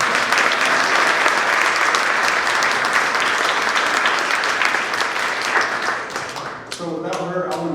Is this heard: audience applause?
yes